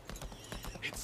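Horse hooves clip-clop in a steady trotting rhythm while riding in the video game Lost Ark, fairly faint and close, with a voice talking over the footfalls.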